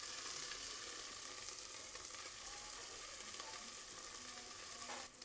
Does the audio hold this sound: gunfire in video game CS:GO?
no